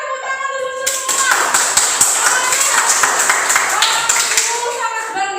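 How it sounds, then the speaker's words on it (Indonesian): A class of children clap their hands together in a quick steady patter that comes in after a short tone and lasts a few seconds, loud and near in a room. "tepuk tangan dulu semua"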